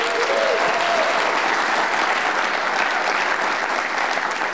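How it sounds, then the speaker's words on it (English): Dense audience applause fills a general session hall for a retiring board member, steady and sustained at close range throughout, with no talking over it. "So give him a round of applause, please."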